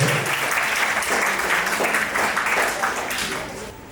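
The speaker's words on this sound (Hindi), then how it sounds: "तालियों से आपका स्वागत करते हैं।" Audience applause for an honoured guest at a school Vedic speech competition ceremony: steady, dense clapping from a crowd, loud and sustained, easing off slightly at the end.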